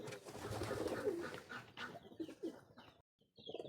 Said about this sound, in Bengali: সিরাজ কবুতরটা অনেক সুন্দর ডাক মারে